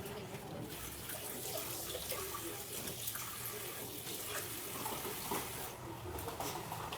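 Water runs steadily from a tap or is poured in a kitchen while egg yolks are being prepared, a continuous faint splashing with no voices.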